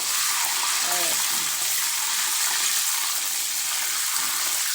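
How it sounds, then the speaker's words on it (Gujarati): Salt water poured into hot oil frying raw banana wafers bubbles and sizzles in a loud, constant, close rush, with a brief voice faintly under it near the start. "મીઠાનું પાણી નાખતી વખતે આ રીતના બબલ્સ થશે."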